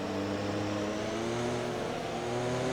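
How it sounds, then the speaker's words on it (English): An F1 car engine in the F1 2020 video game, in a My Team career race with an engine fault, a loud continuous high-pitched whine whose harmonics slide slowly as it revs, alone with no talk. "Something is wrong with my engine."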